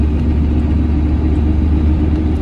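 A 7.3 IDI turbo diesel truck engine pulls a heavy 21,000-pound trailer up a hill at about 2,000 RPM, a steady deep rumbling drone from inside the cab, constant and loud with no talk.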